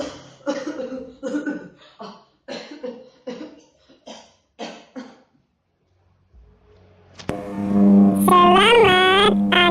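A man fakes a series of coughs, about eight short rough bursts in a steady run, followed by a quiet pause and then a long strained, wavering vocal sound as part of a comic imitation of different cough types.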